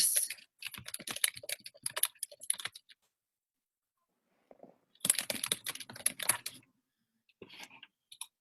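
Rapid typing on a computer keyboard, close and crisp, in two bursts of clattering keystrokes separated by a quiet pause, with a few scattered key taps at the end.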